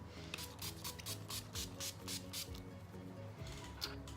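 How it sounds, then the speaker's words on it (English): NYX Dewy Finish setting spray hisses out in a series of short, close bursts with brief pauses between them, faint and alone. "I just have to finish off with some setting spray to kind of melt everything together."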